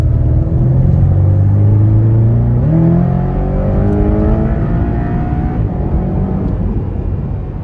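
Aggressive exhaust of a high-performance turbocharged four-cylinder car, a loud, deep rumble climbing through the revs with a shift partway through, then pulling on at steady volume without voices.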